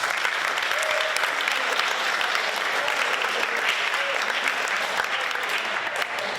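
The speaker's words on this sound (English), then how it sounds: "Give everybody a round of applause." Sustained, even applause from a crowd at a high school fall sports awards ceremony as seniors stand to be honoured, a steady wash of many hands clapping at moderate loudness throughout.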